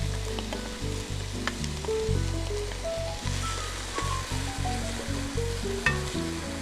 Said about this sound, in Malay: Dia dah panas sikit, kita masukkan bawang Holland ya. Kita masak bawang Holland dulu.